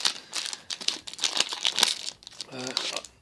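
Crinkly plastic wrappers of Magic: The Gathering Eldritch Moon booster packs being torn open and handled close up: a busy run of sharp crackles and rustles, with a brief voice speaking near the end.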